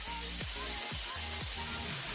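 Ginger garlic paste sizzles and fries in a hot pan, a steady close crackle with occasional stirring scrapes, no talking.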